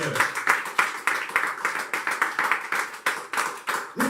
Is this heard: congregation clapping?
yes